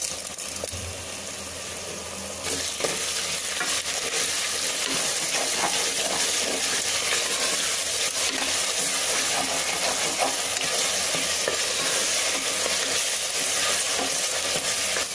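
Onions for chicken biryani fry in a pot, giving a loud, steady sizzle and hiss with repeated scraping stirs throughout and no talking.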